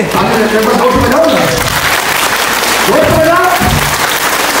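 Audience at a motivational speaker's program in Damak clapping as prompted: loud, continuous crowd applause filling the clip, with voices faintly rising over it.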